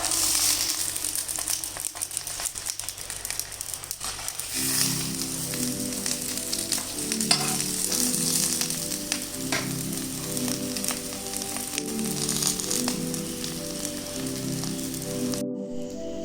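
Pearl spot fish wrapped in banana leaf sizzles in oil over a low flame, a steady close crackle and hiss that runs throughout, with a faint low hum underneath.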